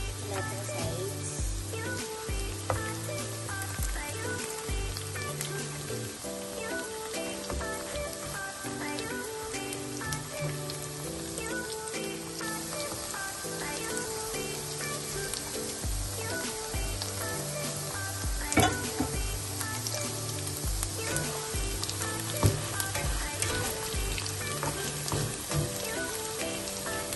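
Tofu sizzles in a frying pan for Filipino spicy tofu sisig, a steady dense crackle and hiss that continues throughout, with occasional louder pops and a few faint scrapes as it is turned.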